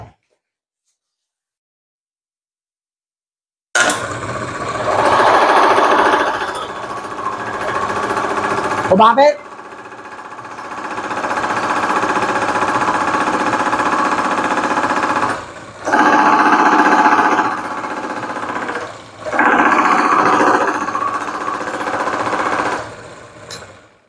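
Engine running after water has been added to its oil, a loud, rapid mechanical clatter close by that comes in bursts with short drops, while people talk over it.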